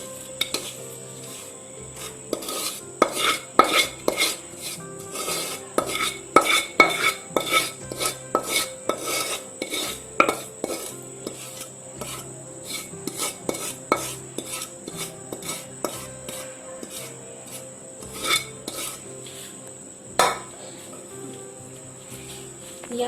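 Roasted besan ladoo mixture with dry fruit is scraped out of a pan into a thali, giving many quick metallic spoon-and-vessel clinks and scrapes in busy bursts, fairly close, with no talking.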